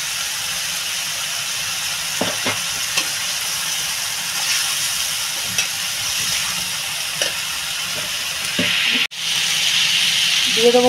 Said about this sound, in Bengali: আদা ভাজা